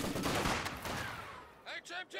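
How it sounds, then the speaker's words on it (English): MG42 and Maxim machine guns in Company of Heroes 2 trade sustained bursts of rattling automatic fire at long range, a dense crackling wash that thins out before a couple of brief swooping game effects at the end. "MG42 and Maxim battling it out at long range"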